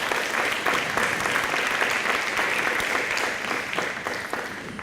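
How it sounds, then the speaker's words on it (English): At a high school top-ten graduation ceremony, a crowd claps for an honoree with dense, crisp applause, strong at first and then tapering slightly over about five seconds, with no voices over it. "Kunlai Naco, feel free to applaud"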